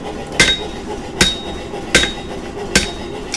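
Hammer blows on a knife blade being forged at a bladesmith's anvil, four sharp ringing strikes spaced evenly about 0.8 seconds apart, close and clear over a low shop hum.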